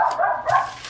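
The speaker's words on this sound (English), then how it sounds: "the dog is having a fit and barking every time a noise happens" A dog barks sharply twice in quick succession, close and loud, reacting to noises from next door.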